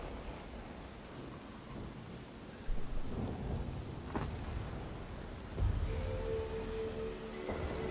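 Rain and thunder from the PC game Dauntless, a steady hiss of falling rain with two or three low, rumbling thunder rolls and sharper cracks, all fairly faint and without talk.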